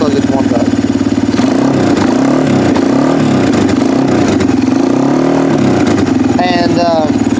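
The small engine of a 1988 Yamaha Moto-4 ATV runs steadily up close while warming up, its pitch rising and falling as the throttle is opened and eased off, with a voice speaking briefly near the end.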